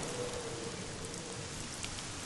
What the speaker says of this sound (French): En plus, ça fait pleuvoir.